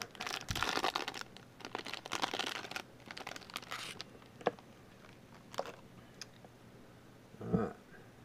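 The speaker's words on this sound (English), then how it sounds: "I should have got it out of this wrapper so you wouldn't have to hear that" Plastic wrapper of a basketball trading card pack crinkles and crackles up close in loud bursts, with quieter scattered rustles and one final crunch.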